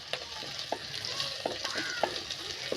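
Small shallots frying in oil in a pan, a steady soft sizzle with faint stirring clicks and scrapes recurring at a loose rhythm, close and quiet.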